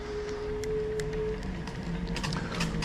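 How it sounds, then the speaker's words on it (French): A scooter rolls through the city-centre streets of Marseille, its steady, close motor whine held over continuous wheel and road noise, with scattered light clicks and rattles across the short stretch and no voices. "le seul bruit que vous entendez, c'est moi. C'est la trottinette."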